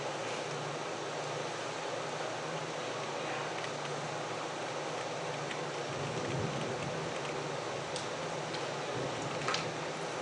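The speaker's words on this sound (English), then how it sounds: "It's thundering like crazy" Heavy summer rain pours steadily during a New York City thunderstorm, a dense constant hiss with a faint low rumble of thunder partway through.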